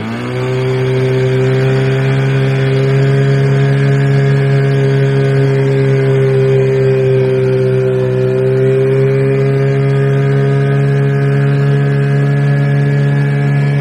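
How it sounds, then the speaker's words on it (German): A loud two-stroke outboard motor on a boat on the Weser river drones steadily and close up for the whole stretch, with its pitch barely shifting. "weil der Motor einfach zu laut ist. Das war zwei Takter."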